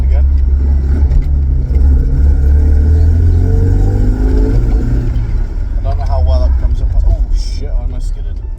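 A Volvo 240 engine accelerating in second gear, heard from inside the car as a loud, deep rumble that rises in pitch, then eases, with someone talking over it near the end.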